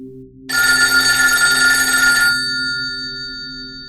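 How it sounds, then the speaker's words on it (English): A telephone bell rings once, loud and close, a bright metallic trill lasting under two seconds that then fades into a lingering ring-out over quiet background. "Then the phone rang."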